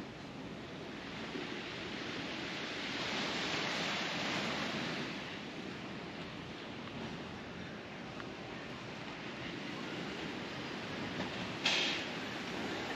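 Ocean surf washing steadily onto a beach beside beachfront villas at a Turks and Caicos resort, a broad continuous wash with slow swells, with no talk.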